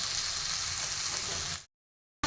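Loud sizzling from a pan of frying stems and potatoes as water goes in, a steady hiss that cuts off abruptly to silence before a brief sound returns at the end.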